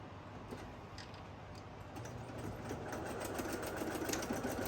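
A sewing machine slowly stitches a half-inch seam on a reversible flat-bottom tote bag, a soft, quiet, rapid mechanical ticking and whirr that picks up slightly toward the end, close and without voices.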